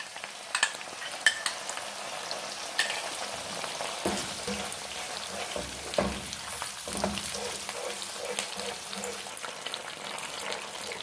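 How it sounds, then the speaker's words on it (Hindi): Vegetables stirred in a pan with chili garlic sauce while making chicken Manchurian, giving a steady low sizzle with scraping spoon strokes and occasional clinks throughout, with no talking. "अच्छे से जो है मैंने इसको जो है स्टर कर लिया, मिक्स कर लिया।"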